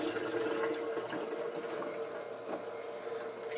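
Tap water runs over the outside of a glass hookah base during cleaning, a steady broadband splashing and rushing that holds close and fairly even throughout with no speech.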